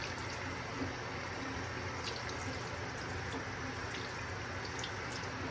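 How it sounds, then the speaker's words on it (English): Hands are rinsed under a running tap at a sink during a sterile products lab handwashing routine, with a steady close rush of water and faint splashes throughout, no talk. "And now afterwards we rinse off, maintaining that same positions that I mentioned earlier."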